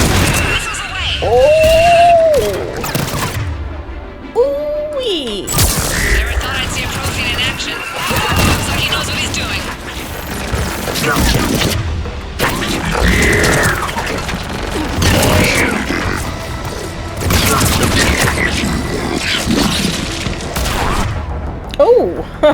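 Missile explosions and heavy gunfire in the video game Mass Effect 3, loud and continuous crashing booms layered with mechanical whines and bursts of shooting, with voices talking over the din.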